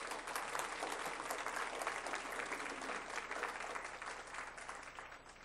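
An audience at a school board meeting applauds for several seconds, a steady wash of clapping that stays even and slowly eases toward the end, heard from some distance.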